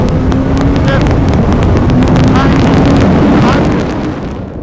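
A 2022 Suzuki Hayabusa motorcycle accelerating hard on the front straight of the Utah Motorsports Campus race track, its engine roaring loudly and steadily under heavy wind rush for several seconds before easing slightly at the end.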